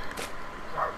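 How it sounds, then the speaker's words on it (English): A dog barks faintly in the distance, one or two brief yips over a low, steady background hum. "excuse the barking dog in the distance if you can hear that"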